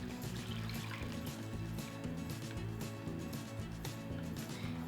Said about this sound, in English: we want to just take our ice cream mixture and go ahead and pour it in there